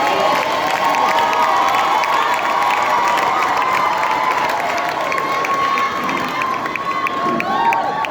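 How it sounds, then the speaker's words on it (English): A graduation ceremony crowd at Tshwane University of Technology cheers and applauds a doctoral graduate, a loud, steady wash of shouts and clapping that holds for several seconds. "May we give me a special round of applause."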